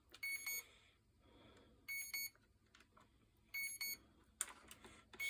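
A drone's electronics emit repeated bursts of high, shrill beeping in a regular on-off pattern, fairly faint, over a quiet background hum.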